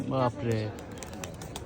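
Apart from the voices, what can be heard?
pigeons cooing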